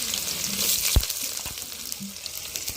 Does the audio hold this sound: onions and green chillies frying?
yes